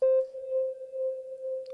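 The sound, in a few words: sine wave test note through mixing desk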